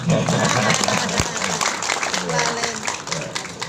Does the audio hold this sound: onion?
no